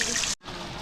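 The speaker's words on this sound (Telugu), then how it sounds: "నేనైతే వాటర్ అయితే పోస్తున్నా" Water splashes and pours steadily over stone lingas at a temple, a brief break cutting the stream before it resumes, with no one talking.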